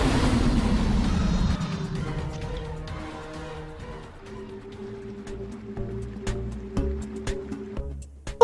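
A cartoon spaceship crashes down into a lake with a heavy splash and churning water, loud at first, then fading into quieter sloshing under light musical tones.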